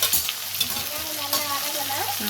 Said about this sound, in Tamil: அதுலேயே வந்து நம்ம வெங்காயம் போட்டுக்கலாம். வெங்காயம் நல்லா வதக்கணும்